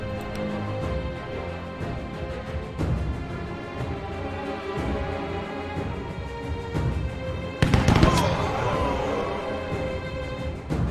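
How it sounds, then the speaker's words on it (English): Suppressive gunfire in the video game We. The Revolution, scattered sharp bursts and booms over a sustained musical backdrop, with a heavier volley about two-thirds of the way in. "I might as well just do another suppressive fire."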